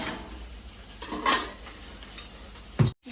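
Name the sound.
stirring chicken pakodi mixture with chillies in a pan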